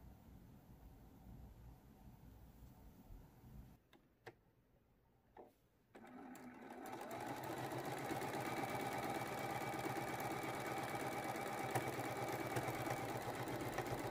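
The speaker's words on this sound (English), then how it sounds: "sew this last seam" A sewing machine stitches the last seam of a fabric pincushion made from charm packs, starting after a brief pause and running steadily with a fast, even mechanical whir for several seconds.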